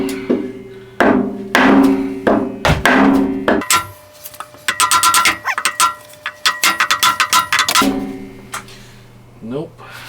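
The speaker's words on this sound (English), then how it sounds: "I just have a block of wood here and a hammer. We're gonna knock against that and hope for the best" Hammer blows on a wooden block held against the drum of an LG ventless washer-dryer combo, driving out a stuck bearing: a slow series of heavy knocks, then a fast burst of sharper, ringing metallic strikes, loud and close.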